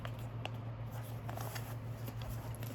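A sheet of paper being folded by hand into a paper ninja star, soft close crinkles and rustles over a constant low electrical hum, no talking.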